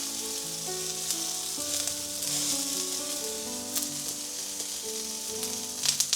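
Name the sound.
onions sizzling in frying pan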